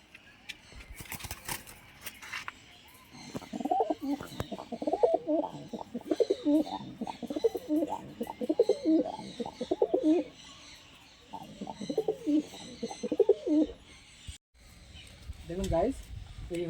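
Pigeons in a loft cooing repeatedly in low rolling bursts, close by, with a person talking over them and some handling noise at the start.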